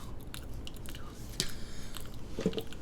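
Close, wet chewing of gum with soft smacking and squishing mouth sounds, punctuated by a couple of sharper crunchy bites, heard alone without talking.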